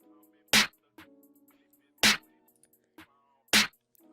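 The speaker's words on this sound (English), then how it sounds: "The snare sounds like this." Three punchy, distorted snare hits stacked from two layers in FL Studio, evenly spaced about a second and a half apart, loud and isolated over a faint melodic phonk backing.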